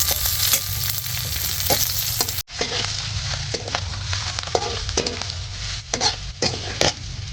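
Turmeric and chili hit hot oil in a pan, giving a dense, continuous sizzle with brief stirring clatters, loud and close, interrupted by a short cut partway through.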